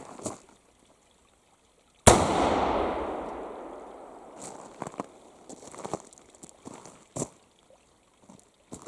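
A single sharp, loud gunshot from an Ethan Allen hinged breech smoothbore loaded as a shotgun, followed by a long echoing decay, with scattered handling clicks and rustles before and after.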